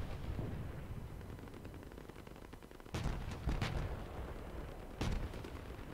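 Vehicle self-destruct explosion in the video game Crossout: a dense, rumbling barrage of blasts with several sharper bursts standing out over continuous low roar.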